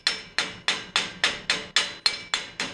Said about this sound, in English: we're going to use our chipping hammer and we're going to chip that off